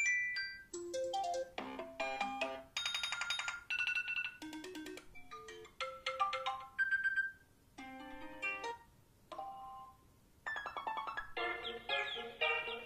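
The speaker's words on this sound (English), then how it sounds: "And this is new ringtones for the Golden Master Edition of iOS" A run of bright, varied ringtone snippets from an iPhone 5 running iOS 7 plays one after another, chimes, marimba-like plucks and tinkling melodies, each cut short before the next begins, with brief gaps between them.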